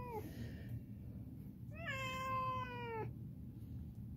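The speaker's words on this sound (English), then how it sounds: "I want them to hear Isis squalling" A cat meows twice, a short faint call followed by a longer, louder drawn-out meow, close by over a quiet background hum.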